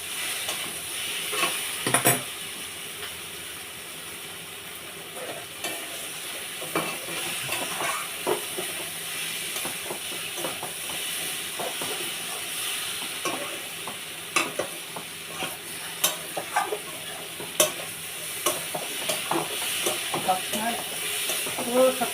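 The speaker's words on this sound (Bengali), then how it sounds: "আর একটু মশলাগুলো কষে নেব।" Okra with spices fries in a pan while being stirred constantly, a sizzling hiss punctuated by repeated scraping and clacking of the spoon against the pan, close and fairly loud.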